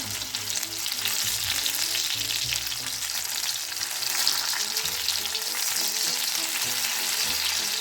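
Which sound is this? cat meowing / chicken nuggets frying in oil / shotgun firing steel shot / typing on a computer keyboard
chicken nuggets frying in oil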